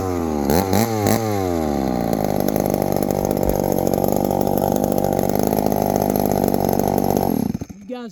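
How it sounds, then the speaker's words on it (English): A rare 1972 Remington chainsaw, freshly repaired, fires up with a few sputtering revs, then settles into a loud, steady near running drone for about seven seconds before cutting off abruptly. "We got her running."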